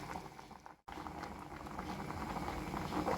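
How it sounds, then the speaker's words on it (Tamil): A vegetable stew cooked with coconut oil bubbles steadily in a pot, a soft continuous boiling patter with a brief drop near the start, heard close and fairly quiet. "இப்போ பாருங்கள், நம்ம ஸ்டியூ நல்லா தரன்னு கொதிக்க ஆரம்பிச்சிருச்சு."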